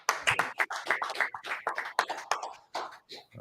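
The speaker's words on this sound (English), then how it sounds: "Let's clap it up." People clapping hands at a brotherhood class gathering, a run of sharp, fairly close claps in an uneven rhythm, loud and dry with short pauses between bursts.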